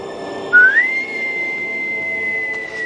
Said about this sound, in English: And then he whistled.